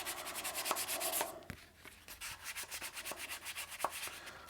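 Steady back-and-forth hand rubbing on a guitar body with 240-grit sandpaper, close and fairly loud, with a brief pause in the middle and a few light knocks; no talking.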